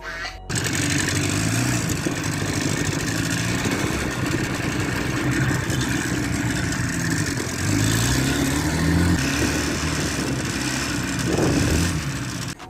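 An old IZh Jupiter 5 motorcycle, revived after 12 years standing in a garage, runs steadily with a rough, throbbing two-stroke putter and small rev swells as it is brought out, close and continuous, no speech.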